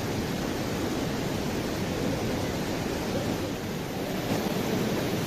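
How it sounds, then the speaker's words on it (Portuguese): A waterfall on the Caminho do Itupava trail gives a continuous broadband rush of falling water, dense and steady throughout, with no voices over it. "eu vou curtir bastante essa cachoeira"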